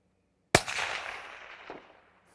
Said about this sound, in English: So I'm gonna just take a shot up at the rocks here to show that.